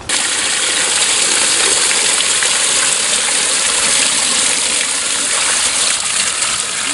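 Water runs in a vegetable garden in Zafra during watering, a loud continuous rushing gush, close and steady throughout with no break.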